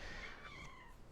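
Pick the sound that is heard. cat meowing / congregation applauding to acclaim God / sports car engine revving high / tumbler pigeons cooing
cat meowing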